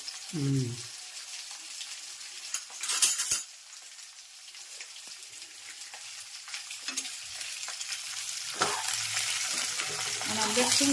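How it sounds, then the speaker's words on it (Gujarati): Okra fries in a generous amount of oil, giving a sizzling hiss that swells and fades with stirring, with spoon scrapes and clinks and brief bits of voice at the start and end. "ભીંડામાં થોડુંક તેલ વધારે નખાય એટલે સારો તળાઈ જાય"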